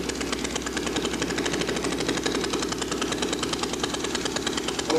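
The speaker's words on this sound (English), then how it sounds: "This is a little 5 horsepower Briggs & Stratton, single piston, but it works exactly the same way any internal combustion engines work." A small 5 horsepower Briggs & Stratton single-piston engine runs steadily and loud, its rapid firing pulses forming an even, continuous chug with no pauses throughout.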